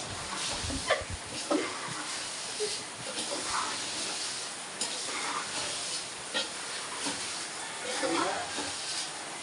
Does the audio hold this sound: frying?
yes